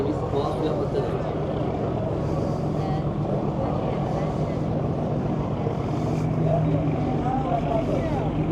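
A tour boat on the Bosphorus drones steadily, its engine a constant low rumble with water and wind noise, and faint voices murmuring in the background.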